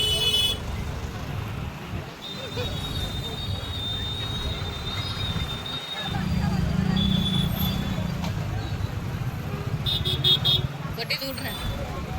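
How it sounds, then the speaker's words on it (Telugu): Heavy street traffic near Charminar in Hyderabad, a dense roar of engines with occasional horn toots in the distance while people talk nearby. "ఫుల్ ట్రాఫిక్ ఉంది ఘోరంగా."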